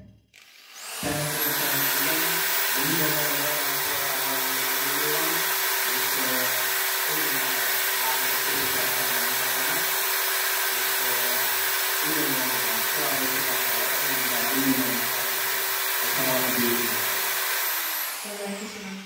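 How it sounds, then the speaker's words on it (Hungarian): A power drill runs continuously nearby with a steady high whine and a pulsing lower motor drone, starting abruptly and cutting off near the end; no one speaks over it. "kérem befejezni a fúrást"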